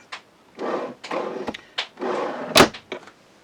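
Several drawers in a Coachman Pastiche caravan slide open and shut in quick succession, with soft rumbling runs and a sharper knock near the end, close and fairly loud.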